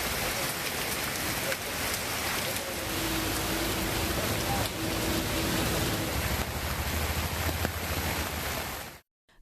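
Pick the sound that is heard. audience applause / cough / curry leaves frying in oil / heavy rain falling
heavy rain falling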